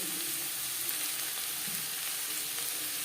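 Onions frying in oil in a pan for a sar puti fish curry: a dense, steady hiss of sizzling throughout, close and fairly loud, with no voices.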